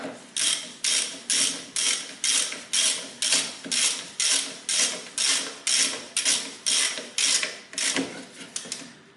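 A socket ratchet with a 10mm socket tightening bolts during a hand brake cable replacement on a front-wheel-drive car, about seventeen evenly spaced, close, loud clicking ratchet strokes in a steady rhythm.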